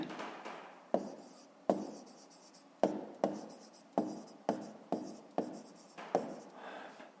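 Pen strokes scratch across paper during a fifth-grade maths exercise, coming as about ten short, close strokes, each starting with a sharp tap and trailing off, in a quiet room.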